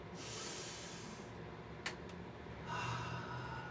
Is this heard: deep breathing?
yes